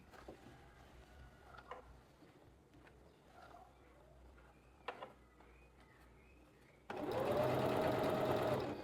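A sewing machine stitches a French seam on light twill fabric, running in one loud, steady burst near the end after a quiet, sparse stretch of room noise.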